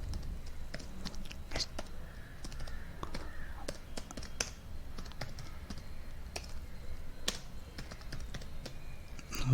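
C code gets typed on a computer keyboard as a quiet, steady patter of key clicks at close range, irregular taps continuing throughout over a low background hum.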